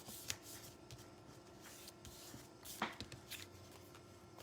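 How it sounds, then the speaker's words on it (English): A sheet of paper folded over for an envelope, its crease rubbed with soft, faint brushing strokes and a couple of light papery rustles, close and quiet. "I'm just going to fold it over and rub, rub, rub."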